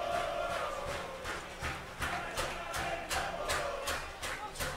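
Stadium crowd at a 2019 Campeonato Paulista match between Bebedouro and Matonense singing together, a steady mass of voices driven by regular rhythmic beats or claps.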